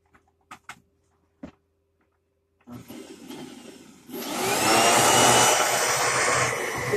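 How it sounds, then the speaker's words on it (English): A few clicks and knocks, then a motor whirs up and swells into the loud, steady roar of a vacuum cleaner running close by. "The vacuum cleaner is working"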